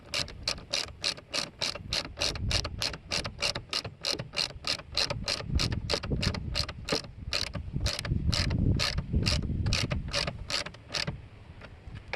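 Ratchet wrench clicking in a fast, steady rhythm while screws are driven back into a Hyundai i30 headlight assembly, close and loud with no talk.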